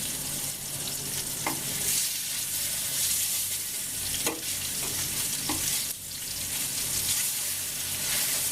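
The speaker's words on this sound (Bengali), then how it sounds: "দেখেন মাছগুলো একটু ভালোভাবে ভাজা হচ্ছে, এগুলোকে আরও একটু ভালোভাবে ভেজে নিব আমরা।" Pieces of rui fish fry in oil in a pan, giving a loud, continuous crackling sizzle broken by a few sharp clicks of a utensil turning them, with no voices.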